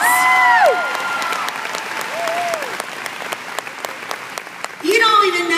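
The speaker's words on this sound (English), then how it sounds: "Give her a round of applause." An audience at a sales seminar applauds an honoree with steady clapping and scattered whoops, loud voices cheering over the start and swelling again near the end.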